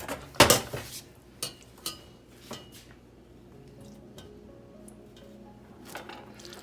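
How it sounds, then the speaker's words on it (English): Cooled pea mixture is scraped and spooned into a blender jar, with a sharp clink of a utensil against the jar followed by scattered soft taps, scrapes and wet squishes. "So I'm going to transfer it to my blender jar."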